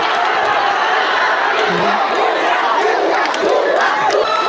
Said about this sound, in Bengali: খেলার শেষ হয়নি এখনো দর্শকরা উল্লাস